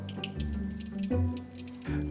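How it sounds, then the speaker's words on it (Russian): Meat-filled belyashi sizzle and bubble in very hot oil, a steady close frying crackle with small popping bursts that swell at moments, with no voices over it. "Фарш влажный, соприкасаясь с очень горячим маслом, фарш вскипает, и там образуется пузырек пара."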